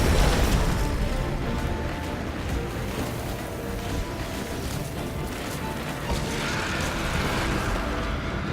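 An armored vehicle ploughs over exploding enemies in Destiny 2: Forsaken, with a continuous loud rumble of crashes, bursts and mechanical grinding that rises again near the end.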